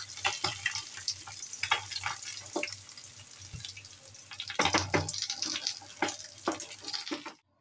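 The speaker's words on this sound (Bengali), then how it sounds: "এই দেখুন মাছগুলো পুরো লাল লাল করে ভেজে নিয়েছি।" Katla fish fry in oil in a pan, with irregular sizzling and spattering bursts, louder near the end, alongside clinks of a utensil and no talk.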